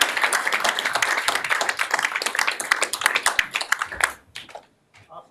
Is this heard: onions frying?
no